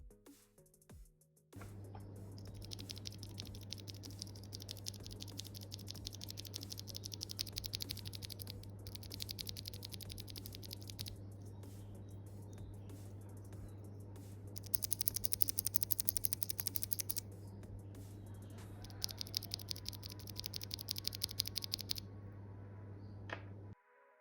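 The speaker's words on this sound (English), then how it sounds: "The lubed switch has a pleasing clack sound to it, whereas the unlubed switch has an unpleasing metallic clink sound to it" Keys are typed on a Redragon Kumara K552 mechanical keyboard, comparing lubed and unlubed switches, in rapid bursts of close clacking keystrokes separated by short pauses, over a steady low electrical hum.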